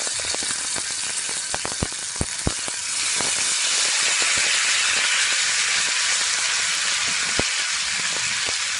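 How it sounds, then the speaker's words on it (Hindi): Tomatoes go into a hot pan of oil with curry leaves for tomato thokku, bursting into loud, continuous sizzling and hissing steam, with a few sharp crackles and spatters at first. "अब टमाटोज डालते हैं।"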